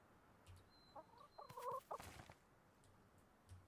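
Chickens cluck in a coop in the video game Mass Effect, a short burst of fowl calls around the middle of the clip over faint game ambience.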